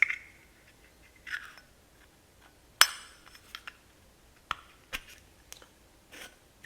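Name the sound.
petrol lighter insert pushed into its metal case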